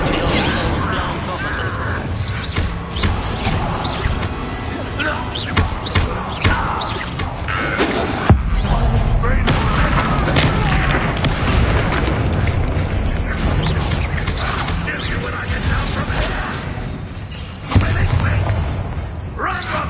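Fire spell blasts in Hogwarts Legacy, a string of loud booming whooshes and crackling impacts layered with combat clatter and shattering, with a person talking over the action throughout.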